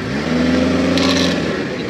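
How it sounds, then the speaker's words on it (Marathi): Two vehicles passing along a road in Konkan during a Ganesh procession toward a temple, a steady loud engine drone with a rising whine, close by, lasting throughout. "दोन गाड्या गेला."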